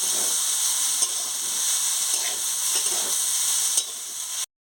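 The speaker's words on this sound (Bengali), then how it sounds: "সর্ষে বাটাটা একটু অল্প নাড়িয়ে দিচ্ছি" Mustard paste stirred and frying in a pan for a saag chorchori gives a steady, close sizzle with soft hissing, ending abruptly.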